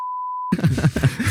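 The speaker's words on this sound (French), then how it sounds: "C'est beaucoup de bip, Loïc." A single steady censorship bleep sounds for half a second, a clean pure tone, then cuts straight into people talking.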